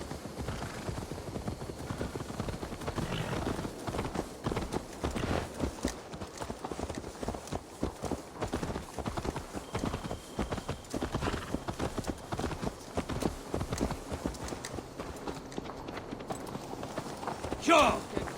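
Horse hooves clip-clopping in Assassin's Creed Valhalla, a continuous rhythmic trot of hoofbeats at moderate volume running the whole stretch, with a faint neigh-like accent near the end.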